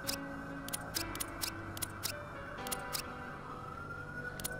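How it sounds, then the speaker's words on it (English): Sustained electronic police siren tones in a video game, with sharp rhythmic clicks over them, synthetic and steady, with no one speaking. "That's the sound of the police."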